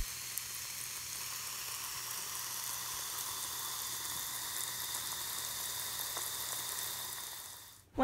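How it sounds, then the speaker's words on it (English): A steady fizzing sizzle as dry ingredients are poured into wet ones crackles continuously at moderate volume, with tiny pops scattered through it, fading out near the end before a sharp knock. "Once I got done listening to the sizzle"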